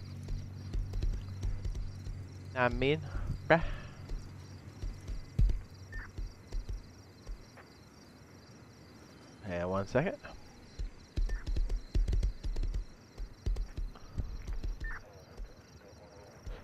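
Horse hooves clip-clop steadily while riding in the Rust console survival game, a soft rhythmic plodding with crickets chirping in the background and someone talking over parts of it.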